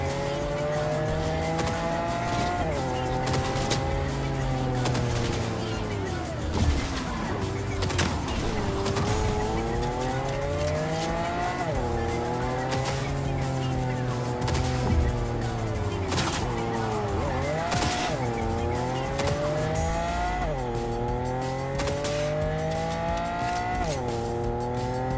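Cyberpunk video game car driving, with engine revs rising and dropping through repeated gear shifts and bursts of tire squeal, continuous and loud throughout.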